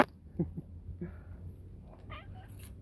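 A cat gives several short, soft meows close by against a quiet outdoor background, with gaps between calls and a brief higher cry near the end.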